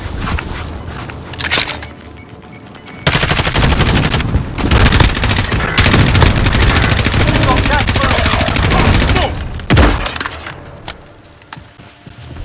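Dense automatic gunfire in the video game Warzone bursts loud and continuous for several seconds, with sparser shots before and after and players' voices talking under the firing.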